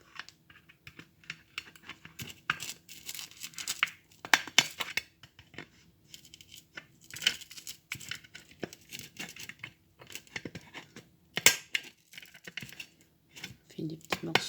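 Scissors snip and cut paper for a handmade Christmas bauble, close up, with paper rustling, tearing and crinkling in irregular bursts between quiet gaps, no talking.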